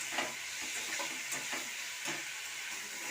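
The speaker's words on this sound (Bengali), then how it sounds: "আলুটাকে দিয়ে ভালো করে কষিয়ে নেব।" Fried potatoes stir-fried in a spice paste sizzle steadily in a pan, with soft scraping stirs repeating every half second or so.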